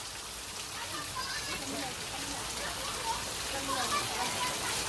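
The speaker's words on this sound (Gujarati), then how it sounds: "ગાઈસ જો વરસાદ કેવો પડવાનો જો મજા જો પોણી આ પોણી પડે જો" Steady rain falls at night in Patan, Gujarat, a dense, even hiss of drops on surfaces close by, with a person talking over it throughout.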